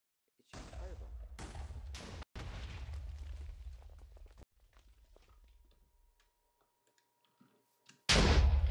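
A fireball shot from a sword in Minecraft gives a few loud booming bursts in quick succession, then a quiet stretch and one more sharp blast at the end.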